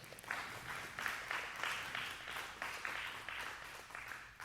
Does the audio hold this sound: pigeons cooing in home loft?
no